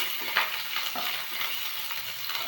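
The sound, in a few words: chopped chilli and bay leaves frying in oil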